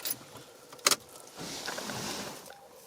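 Key turned in the ignition of a 1998 Toyota Corolla after a starter rebuild: a short metallic jangle and click, followed by a soft steady hum of the car's electrics, fairly close and with no talking.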